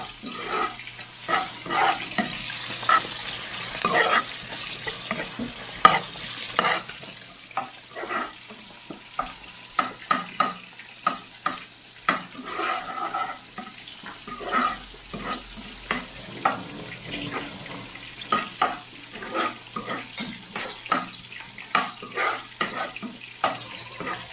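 Onion, garlic and ginger sauté in a hot pan, a soft steady sizzle broken by frequent sharp scraping stirs of a utensil.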